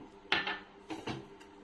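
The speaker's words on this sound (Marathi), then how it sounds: "साखर छान मिक्स करायची आहे।" A spoon stirs sugar into boiling milk in a pot of vermicelli kheer, giving a few soft scraping clinks against the pan in two or three short strokes, close and fairly quiet.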